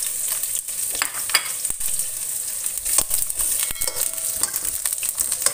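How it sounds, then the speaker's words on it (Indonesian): Onion fries in hot oil in a pan, a close, steady crackling sizzle with irregular scrapes and taps as it is stirred, moderately loud and alone. "Setelah panas, kita masukkan bawang bombaynya dulu ini."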